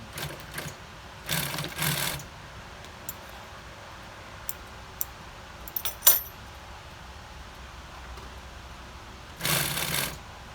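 A sewing machine stitches a seam on Chevy Silverado seat upholstery in short bursts of rapid whirring, with faint clicks and handling noises between runs, close and without speech.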